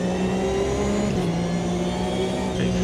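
A Porsche Cup race car's engine revs hard around Zolder in the Automobilista 2 sim, a loud, sustained buzzing drone with a slight pitch wobble midway, and nobody speaking.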